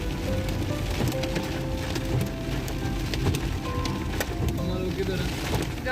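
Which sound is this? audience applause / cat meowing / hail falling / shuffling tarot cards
hail falling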